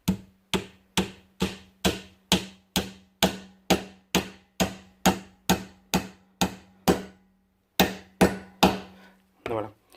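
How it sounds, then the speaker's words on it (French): A hammer taps on the drive pulley of a petrol lawnmower during disassembly, about twenty sharp, evenly spaced metallic knocks that are close and loud, with a brief pause before the last few strikes. "on va tenter le marteau"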